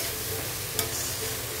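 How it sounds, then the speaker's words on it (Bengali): Chopped spinach is stirred and sautéed with spices, turmeric and salt in an oiled pan for dal palak, a loud continuous close sizzle with one brief utensil clink. "এখন কেটে রাখা পালং শাকটা অ্যাড করে দিলাম, দিয়ে এই মশলার সঙ্গে শাকটাও ভালো করে কষিয়ে নেব।"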